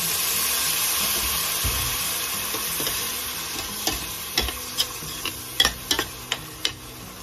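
Broccoli, mushroom and capsicum are stirred in a sizzling pan with a little broth. Soft steady frying hiss runs throughout, and scraping utensil clicks grow sharper and more frequent in the second half.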